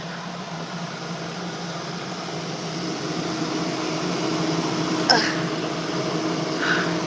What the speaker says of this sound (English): Just coming to sit under my dryer